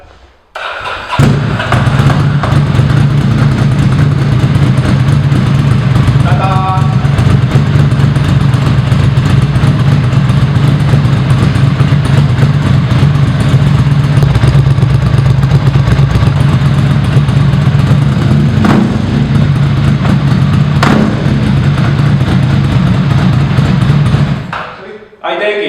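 A tuned Ducati Monster S2R motorcycle engine starts and runs loudly up close, a deep throbbing idle with revs rising and falling, while people talk faintly in the background.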